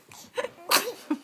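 A single sneeze bursts out close by during a family Christmas morning, preceded by small breathy sounds and followed by a brief voiced sound.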